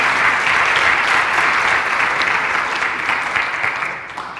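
A church congregation applauds during a Spanish-language sermon, loud, sustained clapping from many people that fills the room and eases slightly as it winds down.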